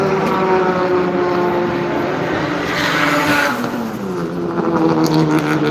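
Car with a Nissan SR20 engine at Silverstone during Japfest, loud close engine roar with shifting pitch as it works around the track, alone without talk.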